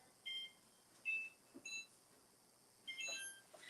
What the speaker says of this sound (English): let me set the timer for 10 minutes because I will forget.